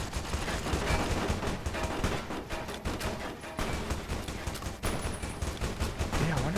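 Dense, continuous rapid gunfire from a Caesar's Legion fight in Fallout: New Vegas, steady close volleys that rattle on without a break.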